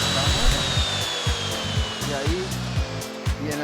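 A router with its bit cuts material while a KOBER Freedom piece is installed, giving a loud, steady whine with a slowly falling pitch and rhythmic chattering pulses underneath, and speech mixed in.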